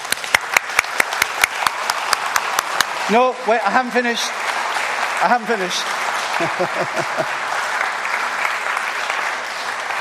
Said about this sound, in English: You like to clap them.